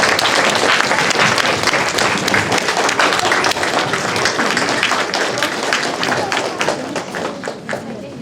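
An audience in a children's music school hall applauds after carol singing, dense loud clapping from many hands that continues steadily, tapering slightly toward the end.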